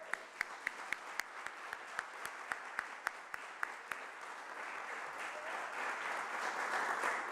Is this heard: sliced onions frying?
no